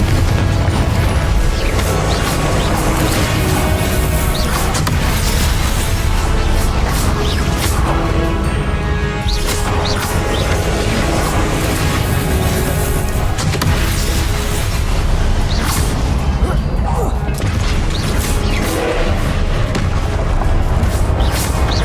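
Incendio and Confringo fire spells in the video game Hogwarts Legacy roar and crash continuously, a dense loud mix of booming blasts and fiery whooshes with no pause.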